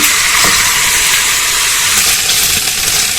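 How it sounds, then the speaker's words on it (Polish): Pork searing in a hot pan, browned on both sides for a Dutch-style pork loin dish, gives a steady loud sizzling hiss that fills the whole stretch without pause, with no talking over it. "Mięso obsmażamy z dwóch stron."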